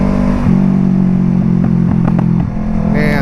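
A Kawasaki Ninja RR 150 two-stroke motorcycle revs hard on an open city road, a loud, close, buzzing engine note holding steady before easing off near the end.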